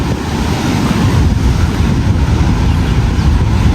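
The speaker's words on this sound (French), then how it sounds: "Les vagues sont énormes." Large ocean waves roar steadily along the coast of Réunion at Manapani, a loud continuous wash of surf mixed with heavy wind buffeting the microphone.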